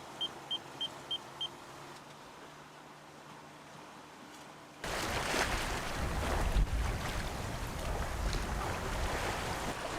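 Wind on a sailboat at sea, sailing in trade winds along a reef chain off Panama: a quiet start with a few faint beeps, then a loud, steady rush of wind that fills the second half.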